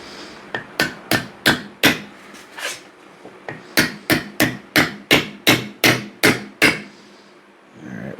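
Sharp, ringing hammer blows strike wood in two quick rhythmic series, about five then a dozen evenly spaced close impacts, alone without talk.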